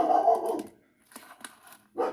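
A dog barks nearby in a few short bursts with quiet gaps between them, at a home where a Lego 8040 set is being built.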